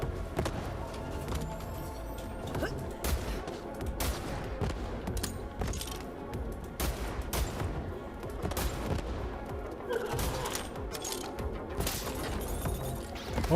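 Rapid gunfire and explosions from the video game Borderlands 3, dense bursts of shots and blasts repeating throughout at a fairly low overall level, with no talking.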